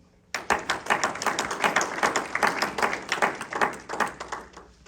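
A church congregation bursts into sustained applause, many hands clapping rapidly and fairly close, swelling and holding for several seconds without talk.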